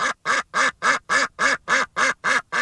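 Ten loud, evenly spaced duck quacks repeat in a steady rhythm of about four per second, close and alone with no talking.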